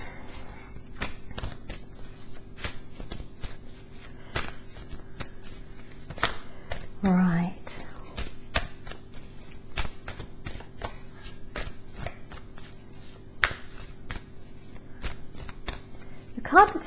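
A deck of tarot cards is shuffled by hand close up, giving a soft riffling rustle with regular sharp card taps throughout, over a low steady hum and a brief spoken word.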